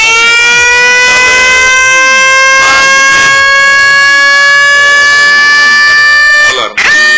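A loud, steady electronic alarm siren from a homemade NE555 timer circuit wails continuously, close and piercing, with a brief dropout just before the end.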